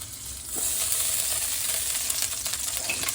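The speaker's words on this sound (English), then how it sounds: "brown our drained hare meat" Hare meat sizzling and frying in hot beef fat in a pan, a steady broad crackle with occasional stirring scrapes and clicks, close and alone.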